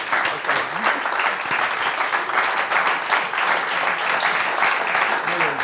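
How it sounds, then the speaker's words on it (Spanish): Audience applause at a talk on the new situation of Western Sahara, a steady, fairly close patter of many hands clapping throughout, with a voice speaking faintly beneath it. "Un aplauso."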